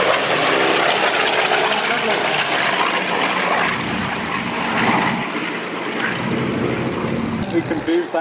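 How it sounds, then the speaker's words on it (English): A heavy propeller engine of a US Navy Avenger torpedo bomber roars loudly and steadily at an air show, a deep broad drone that holds throughout as the plane passes close by. "that really is a big aeroplane, that Avenger torpedo bomber"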